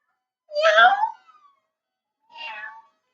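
A person imitates a cat meowing, giving two drawn-out meows, the first louder and longer, the second softer, separated by a short pause.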